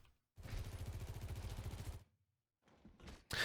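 Sojourn's railgun fires in Overwatch 2, a rapid stream of punchy electronic shots held for over a second, then a pause, and shorter bursts close to the listener.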